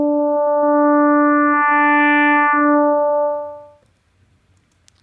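A single sustained sine-wave note from an FM synth in Ableton Live 11, held steadily for about three seconds with a bright harmonic stack, then fading out into near silence with a few faint clicks.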